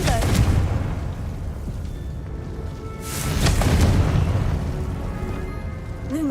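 Confringo spell blasts in the Hogwarts Legacy video game burst out as two booming explosions, one near the start and a bigger one about midway, with rumbling debris and a muffled game soundscape between them.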